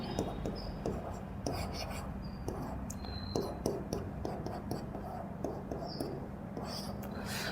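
A marker scratches across a board in short strokes and taps with irregular pauses, accompanied by faint squeaks, while a teacher works through a chemistry mechanism under low room noise and soft background voice.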